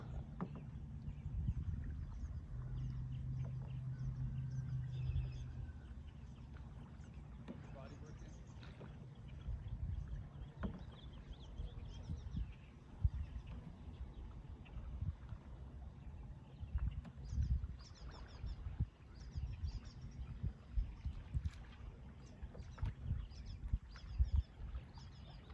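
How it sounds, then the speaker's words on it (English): Boys rowing a small boat on open water, with soft rhythmic oar splashes and knocks close by under a low wind rumble, and people talking quietly at points. "There's my boys rowing their boat."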